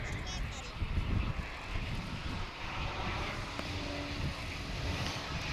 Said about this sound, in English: We now welcome from Santa Barbara, California, American Flight 1757, and Airbus A319 on Runway DFW.